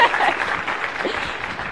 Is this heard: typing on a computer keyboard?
no